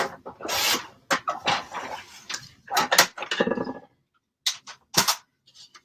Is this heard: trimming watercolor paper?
yes